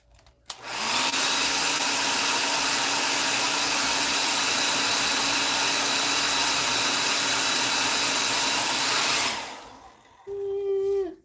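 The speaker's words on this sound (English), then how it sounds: "Here it is. The blow dryer." Handheld blow dryer used to weather a Big Boy model locomotive, a loud steady whir that switches on after a brief click and runs continuously for about nine seconds before cutting off, then a short faint whine near the end.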